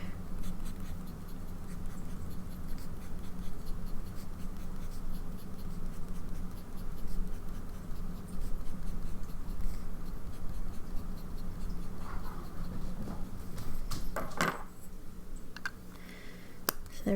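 Lamy fountain pen with a medium nib, inked in dark violet, scratching softly across paper in continuous faint strokes, close and quiet against a low background hum.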